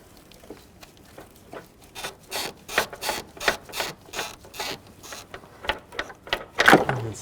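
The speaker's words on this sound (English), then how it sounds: "Should be able to twist the hose and slide it off." A radiator hose on a 2011–2013 Chrysler 200 being twisted and slid off the thermostat housing, making a series of close, rhythmic rubbery rubs and squeaky rasps that grow louder toward the end.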